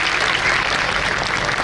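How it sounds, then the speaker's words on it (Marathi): An audience at a school gathering applauding, dense sustained clapping throughout at full volume. "एकदा जोरदार टाळ्या त्यांच्यासाठी वाजवायच्या आहेत."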